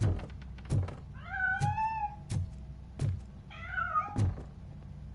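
Cat in RoboCop: Rogue City letting out two drawn-out, wavering meows, with heavy metallic thuds landing in a steady, regular rhythm around them. No voices are heard.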